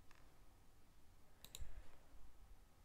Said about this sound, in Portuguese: A gente clica em Dismount.